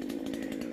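A chainsaw runs steadily as it cuts through a spruce tree with a climber high up near the top, a loud continuous engine drone with no talk over it.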